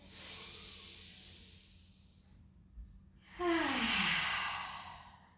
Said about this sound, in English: Inhale, let the belly rise.